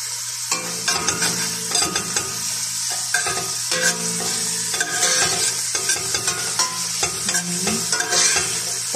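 Garlic frying in a pan while being stirred, a bright close sizzle broken by repeated scraping strokes of the utensil in an irregular rhythm, with no speech.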